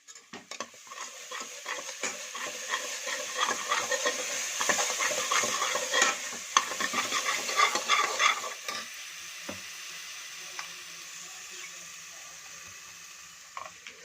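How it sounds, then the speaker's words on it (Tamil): Ginger garlic paste and onions stir-fried in a pan for chicken curry, a busy crackling sizzle with frequent utensil scrapes against the pan, close, quieting toward the end. "இஞ்சி பூண்டு பேஸ்ட்டை போட்டு நம்ம வெங்காயத்தோடு நல்லா கலரிக்கலாம்"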